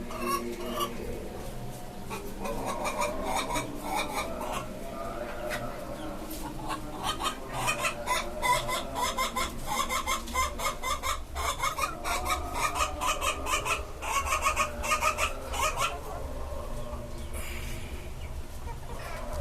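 Several chickens, some of them sick, cluck continuously in short, rapid bursts, fairly close, over a low background hum, with no clear talking.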